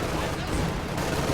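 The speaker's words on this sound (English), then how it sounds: "Is this opening up on the Tiger, getting a few shells in?" Wolverine tank destroyer firing shells at a Tiger tank in Company of Heroes 2, dense booming gunfire and explosions filling a brief, loud, continuous burst of battle noise with talk mixed in.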